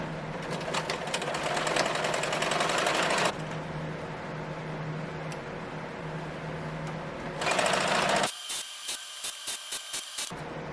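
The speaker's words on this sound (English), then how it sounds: "We're just gonna stitch it. It's a straight stitch." Sewing machine running straight stitches through heavy tablecloth fabric, a loud steady whir for a few seconds, a quieter stretch, then another fast burst ending in short rhythmic stop-start stitches.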